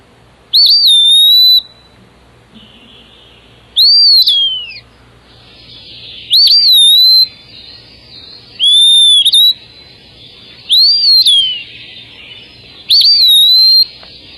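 Pewee flycatcher calling: six clear, loud slurred whistles repeated every couple of seconds, close and alone with only faint background between notes.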